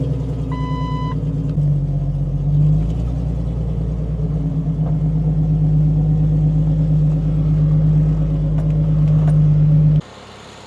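A custom-painted vehicle's engine runs steadily nearby with a loud, even low rumble and slight rise in revs, then cuts off abruptly near the end, leaving a quieter background.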